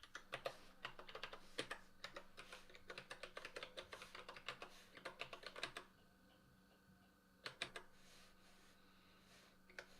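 Quick, uneven clicks of typing on a computer keyboard, close and fairly quiet, in bursts that stop briefly and then resume with a few more keystrokes.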